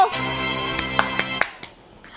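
A handful of sharp hand claps, four or five quick slaps spaced roughly a quarter second apart, land over a sustained musical tone that then fades away.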